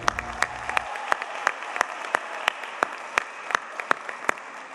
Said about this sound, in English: One more round of applause for Mr. Ben Lee.